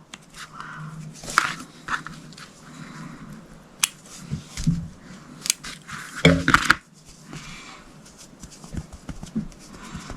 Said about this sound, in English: I kind of have the scissors at more of an angle tucked underneath the plastic